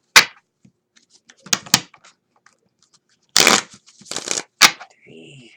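Quick bursts of cards being riffled and bridged, a few crisp flurries separated by pauses, close to the microphone with no talking.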